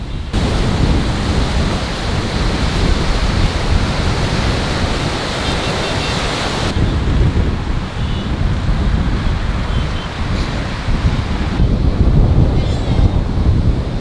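Humid sea wind blowing along the Colombo coast in Sri Lanka, a loud continuous roar of wind and surf with heavy microphone buffeting, no talking.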